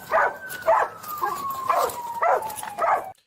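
A dog gives five evenly spaced barks at moderate loudness over a steady thin whine that slowly falls in pitch.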